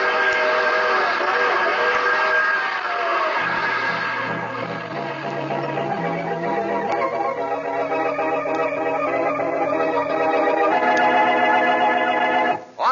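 A steam train whistle sounds as a radio-drama effect, long sustained chords that shift pitch over rolling train noise, loud and continuous throughout.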